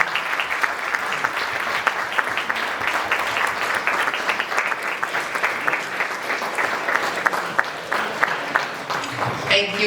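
Sustained audience applause, a full, steady roar of many hands clapping at fairly close range, continuing for about ten seconds with distinct sharp claps standing out and a voice briefly emerging near the end.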